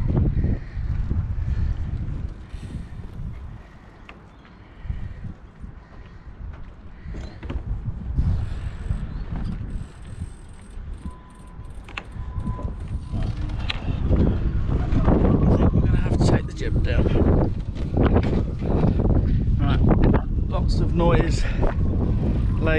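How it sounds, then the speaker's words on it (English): Strong wind of about 20 knots gusts and buffets through a marina, rumbling low and shifting in strength, with creaks from boats and rigging, and someone talking over it. "the wind is blowing about, I don't know, 20 knots in the marina"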